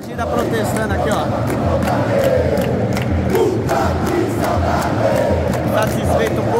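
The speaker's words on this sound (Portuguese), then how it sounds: "A torcida protestando aqui, ó." A large football stadium crowd at a Corinthians versus Cuiabá Brazilian league match chants and shouts in protest, a dense, loud wall of voices rolling continuously.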